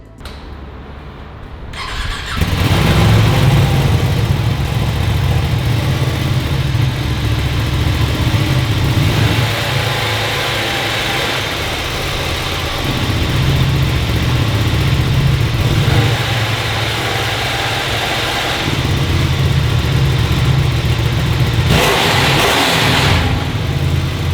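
Ducati Streetfighter V2 motorcycle engine revving in neutral while standing still, a loud steady drone of repeated throttle blips and sustained high revs that dip briefly and swell again, close up with no talking.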